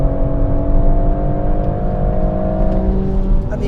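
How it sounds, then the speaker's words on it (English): A BMW M140i engine pulling hard on the Goodwood circuit, heard from inside the car as a loud, steady, droning rise of engine note with continuous road and wind roar. "And the engine, wow, it is relentless."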